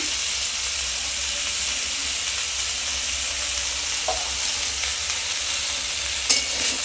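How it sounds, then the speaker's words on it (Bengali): Salted carrots, radish, drumsticks, beans, potato and eggplant frying in a pan sizzle in a constant hissing bed, with a couple of soft stirring scrapes and a faint utensil tap near the end. "নুন দিয়ে আবারও নাড়াচাড়া করে নেব।"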